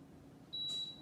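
A Power XL cooker being set to slow cook gives a single faint electronic beep, short and thin, in an otherwise quiet kitchen.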